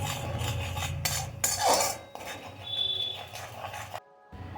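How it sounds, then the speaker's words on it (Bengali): Dry red chilli powder being stirred in a pan over a medium-low flame for a chicken curry, with a metal spoon scraping and clinking against the pan in a steady, close rhythm that briefly stops near the end. "দিয়ে অবশ্যই মিডিয়াম টু লো ফ্লেমে একে কষতে থাকবো যতক্ষণ না পর্যন্ত এর একটা সুন্দর রং আসে"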